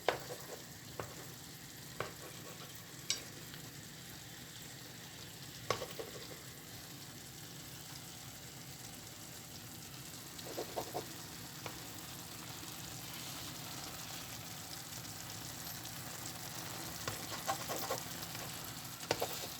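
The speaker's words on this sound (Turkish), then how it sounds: "Ara ara şöyle yumurtaların pişmesini sağlayalım." Eggs frying in a pan give a steady soft sizzle that runs throughout, with occasional light clicks and taps of utensils over it, close and quiet with no talking.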